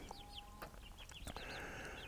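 Chickens in a chicken tractor give short, rising clucks and chirps at close range, several quick calls over a soft background with no talking.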